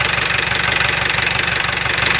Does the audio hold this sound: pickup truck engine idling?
yes